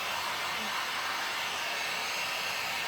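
A hair dryer blowing steadily to dry paint on a DIY flag tray, a close, continuous airy whoosh with no pauses.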